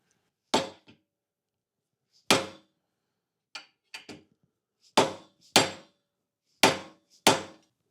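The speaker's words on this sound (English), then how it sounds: "hit it with a dead blow hammer just to get it in far enough" Eight sharp, heavy thuds of a dead blow hammer striking a metal socket, driving a universal joint into a Mercruiser Bravo sterndrive, irregularly spaced with a few lighter taps between, each ringing briefly before silence.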